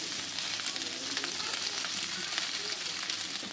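Sliced onions sautéing in oil for restaurant-style butter chicken, a steady close sizzle and crackle throughout, with a little faint stirring.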